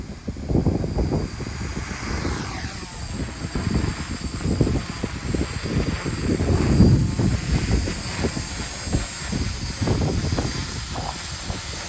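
An F450-frame quadcopter drone on a DJI NAZA controller lifts off in gusty outdoor wind, its motors a steady whirring drone mixed with rumbling wind buffeting the microphone throughout.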